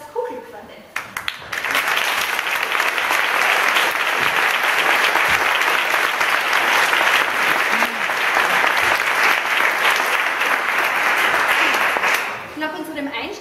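Concert audience applauding a welcomed vocal quartet at a choir performance, dense sustained clapping rising quickly and fading near the end, with a voice briefly heard before and after.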